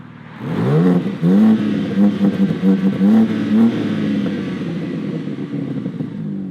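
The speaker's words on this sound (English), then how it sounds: "these sports exhausts are standard, and they sound fantastic" A BMW M3 with its standard sports exhaust and S58 engine blips and revs repeatedly, the loud close exhaust note rising and falling in short bursts before settling into a steady idle rumble.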